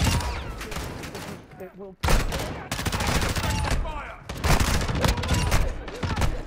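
Bursts of automatic gunfire and fusillades in Call of Duty Warzone 2 DMZ mode, loud and close, broken by a brief lull, with a player talking over the shooting.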